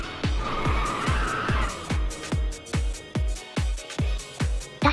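Ridge Racers 2 car on PS5 drifting with loud tire squeal, a rapid series of sharp rhythmic bursts over a steady engine roar.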